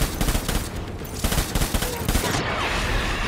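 Gunfire in Death Stranding: dense, continuous bursts of shots that keep up for the whole stretch, fairly loud, with some background talk mixed in.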